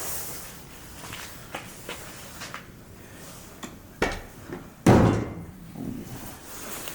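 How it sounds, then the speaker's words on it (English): The door of an old Ford Mustang, part of a classic car collection sitting in a barn for 20 years, is worked open: light clicks and rattles lead to a sharp knock and then a loud, close thud. "Open the door or not, but we'll see."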